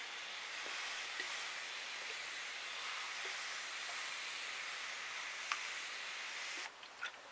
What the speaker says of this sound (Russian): И нужно пролить теперь.